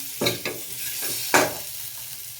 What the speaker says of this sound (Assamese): ল' ফ্লেমত ভাজি আছোঁ আলুটো ধুনীয়াকৈ।